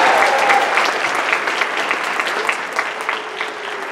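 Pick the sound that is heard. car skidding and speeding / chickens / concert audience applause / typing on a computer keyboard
concert audience applause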